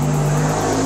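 A noisy car passes close by on a street in a brief, loud burst of engine and road roar, with a steady low hum running throughout.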